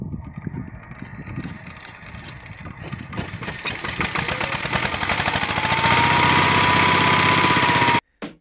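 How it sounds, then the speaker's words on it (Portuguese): A 30-year-old Tobata 14 hp diesel micro tractor engine runs with a rapid, knocking chug that builds from a rough idle to a louder, steadier rhythm before cutting off abruptly near the end. "É um modelo a diesel, da Tobata, com 14 cavalos"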